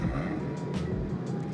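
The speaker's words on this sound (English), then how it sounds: "so here is the startup sound." A brief startup of a Toyota Supra engine in the Roblox video game, a short burst of close engine noise lasting under two seconds.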